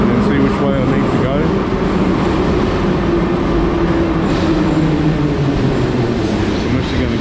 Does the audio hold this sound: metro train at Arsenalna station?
yes